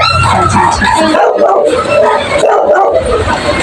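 Dogs in a home yard at feeding time bark and yip in a dense, loud, close jumble that runs nonstop, with people's voices mixed in.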